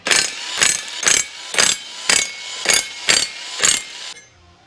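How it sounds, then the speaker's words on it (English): Mechanical work on a Honda K24 engine while the flywheel comes off: eight evenly spaced, sharp, buzzing bursts, close and loud, with short pauses between them. No voices. "Let's pull the flywheel off of here."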